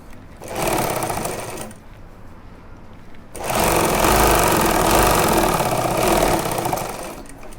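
A sewing machine stitches a fabric pocket onto a pajama, running in two close, loud bursts of rapid mechanical whirring: a shorter one, then a longer and steadier run, with no talking.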